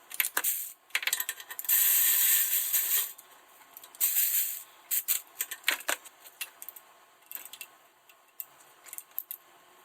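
Close-up ratchet clicks tightening bolts on the inner CV axle of a 2015 Chrysler Town & Country, coming in quick bursts of rapid clicking with short pauses between strokes.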